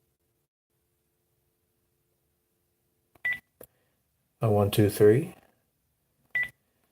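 A telephone keypad gives a few short, isolated DTMF beeps, spaced apart, in an otherwise quiet room, with a voice briefly speaking between them.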